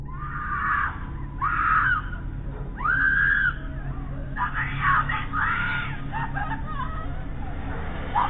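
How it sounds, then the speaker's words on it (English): A woman screams for help in several long, strained bursts from a distance, with pauses between them over a constant background hum. "Her voice could be heard screaming for help from a distance."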